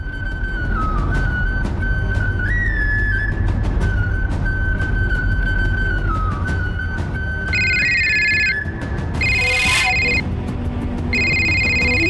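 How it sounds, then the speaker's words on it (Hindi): A telephone rings through repeated electronic tones while an outgoing call is placed in a Hindi TV serial scene. Steady background noise and music run underneath, and a brief bright burst comes near the end. "नहीं मैं ही लगाता हूँ फोन।"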